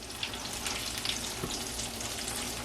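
Chicken tenders frying in hot oil in a pan at home, giving a steady, close sizzle and bubbling hiss with small crackles and pops scattered throughout.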